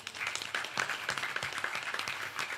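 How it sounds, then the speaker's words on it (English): Audience giving a round of applause at a Ram Mandir anniversary Ramayan Yagna celebration in Mississauga, a dense, sustained patter of many hands clapping at a fair distance. "please give her a round of applause"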